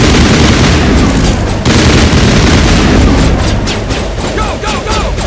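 Sustained firefight in Mass Effect, loud rapid gunfire and overlapping shots crackling continuously, with brief pauses and a few sharp bursts near the end.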